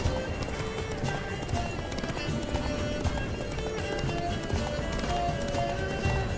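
Rapid hoofbeats of a galloping horse in The Witcher 3: Wild Hunt pound steadily throughout, with occasional whinnies over a busy, continuous game background.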